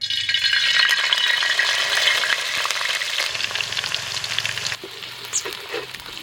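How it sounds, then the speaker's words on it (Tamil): Crushed ginger and garlic fry in hot oil in a pot for a Tamil venison dry fry, giving a loud, steady close sizzle with light rattling and stirring throughout, easing slightly near the end. "எண்ணெய் நல்லா சூடேறிடுச்சு. இப்போ இடித்து வச்ச இஞ்சி பூண்டு சேர்த்துக்கலாம்."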